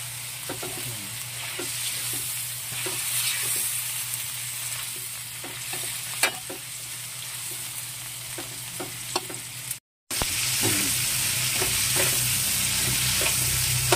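Bagoong sautés in a pan for pakbet, a loud steady sizzle and crackle with a spoon scraping and stirring throughout, cut off by a brief silence before the frying resumes.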